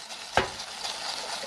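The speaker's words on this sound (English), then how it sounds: "Some chickens getting reheated, and then we're going to throw in some sweet chili sauce." Chicken reheating with noodles in a small pot at a VW Caddy camper gives one quick scraping stir, then a soft, close, steady sizzle.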